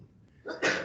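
A single sneeze bursts out near the end after a short inhaled build-up, loud and close, with no talk over it.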